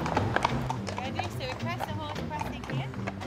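A horse walks on a hard surface, hooves clip-clopping in a steady, close rhythm throughout, with faint talk and background noise around it.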